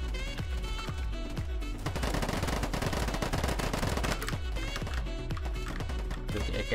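Rapid, loud automatic AK-47 fire in the video game Polygon rattles out in dense bursts with short gaps, close and punchy throughout.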